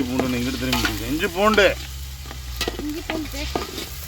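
Ginger-garlic paste hits a hot pan of softened tomatoes over an outdoor farm cooking fire near Madurai and sizzles loudly while being stirred. Voices carry over the frying at first, then the steady sizzle and scraping continue.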